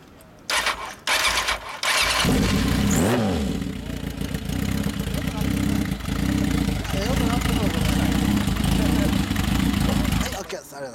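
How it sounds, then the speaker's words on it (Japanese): A motorcycle engine cranks a few times, catches and settles into a loud, steady idle with occasional small revs, close by, while people talk nearby. "エンジン音だけ聞かせてもらえますか？"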